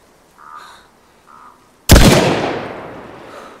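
A single loud SV98 sniper rifle shot in the survival game DayZ. The sharp crack rings out and its echo trails off over more than a second. Two faint crow-like caws come just before it.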